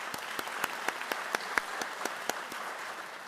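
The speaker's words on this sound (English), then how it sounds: "Let's give them all a round of applause." Sparse applause for teachers at a school district's Teacher of the Year ceremony: a thin scattering of distinct, evenly paced claps from a small audience over a quiet room, each one standing out sharply.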